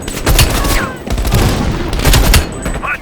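Gunfire and explosions in the video game Call of Duty: Black Ops Cold War, loud repeated bursts of shots with booming blasts in quick succession, dense and close, with a few brief whistling tones.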